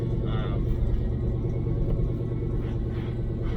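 A lifted 1987 GMC K20 squarebody pickup idles steadily, its engine a loud, continuous close-up rumble that stays even throughout.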